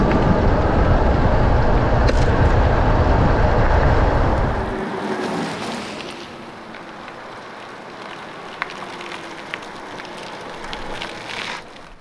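An electric go kart's wheels spin and scrabble on loose gravel, a loud, dense rushing roar for about five seconds that then drops to a quieter background with a few faint ticks, with no talking.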